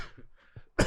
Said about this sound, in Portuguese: eu estou com uma tosse alérgica